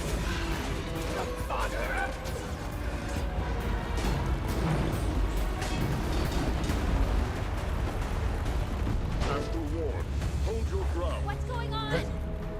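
Explosive barrage attack in an action video game, with dense, continuous booms and crashes rolling on for the whole stretch, loud and near, with game effects layered in.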